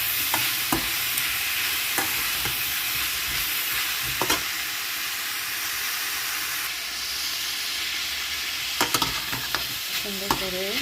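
Food fries in a pan with a constant loud sizzle and hiss while a utensil stirs and scrapes, giving a few sharp knocks and clinks against the pan.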